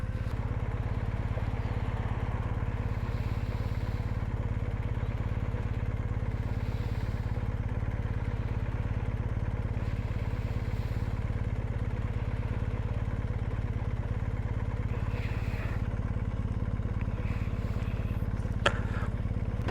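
A BMW motorcycle riding along on a cold day, with a steady, loud engine drone and rushing wind that hold constant throughout, and a brief click near the end.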